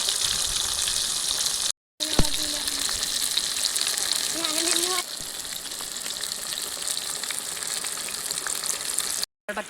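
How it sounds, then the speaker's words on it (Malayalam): Pearl spot fish frying in hot coconut oil, a dense steady sizzle that fills the whole stretch with only two brief cutouts, and faint tonal sounds briefly rise above it. "അതിലോട്ട് മീനിട്ട് വറുത്തെടുക്കാം."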